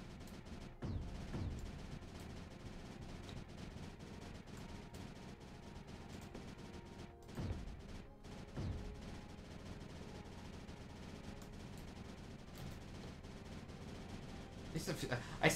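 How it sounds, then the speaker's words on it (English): Four video-game cannons fire into the distance in a dense, nearly continuous barrage of booming shots, steady and loud throughout with a few heavier bursts, while a voice speaks at times over the fire. "Having four cannons shooting into the distance is appearing to be doing the job correctly"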